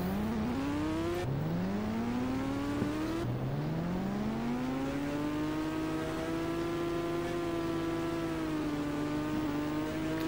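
An engine in the Indian bike video game revs steadily as the vehicle drives fast, its pitch climbing and dropping back with each gear shift in a continuous whining drone.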